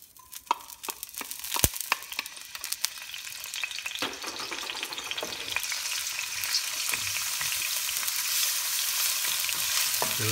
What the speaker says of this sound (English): Just a little bit of olive oil here. Right, and then let's put the garlic.